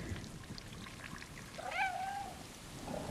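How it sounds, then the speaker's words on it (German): A cat meows once, mid-pitched and rising then falling, coming through a game controller's speaker while playing Stray, with soft background noise before and after. "Oh mein Gott, der Controller miaut."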